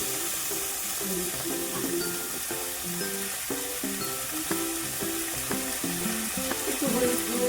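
Fish head curry sizzles and is stirred in a pan, a steady frying hiss over background music throughout.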